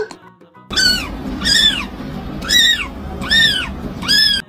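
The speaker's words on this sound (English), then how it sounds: "C for cat" A cat meows five times in a steady rhythm, each cry rising and falling, clear and close.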